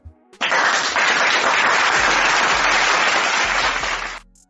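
A burst of crowd applause with dense, steady clapping swells in suddenly, holds loud and even for about four seconds, then drops away.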